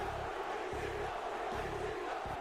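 A wrestling crowd at an ECW Hardcore Championship match roars after Ric Flair taps out to the camel clutch, a steady dense wall of distant cheering with low rhythmic thumps of chanting or stomping underneath.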